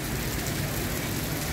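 Heavy rain pours down in the morning, a dense, steady hiss of falling drops that fills the whole moment without a break.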